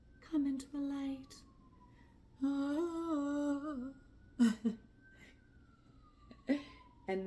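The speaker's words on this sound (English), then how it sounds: "sorry about the sirens, y'all" A wailing emergency-vehicle siren sweeps slowly from outside, faint and steady, while someone speaks close by over it.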